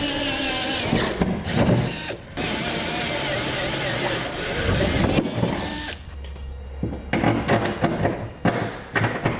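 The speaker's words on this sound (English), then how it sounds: "we'll now drill out our holes all the way through to the final size." Loud power-tool drilling through metal for a Curt gooseneck hitch installation, with grinding bursts and thuds, stopping and restarting several times, close by.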